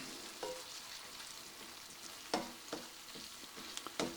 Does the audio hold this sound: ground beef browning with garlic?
yes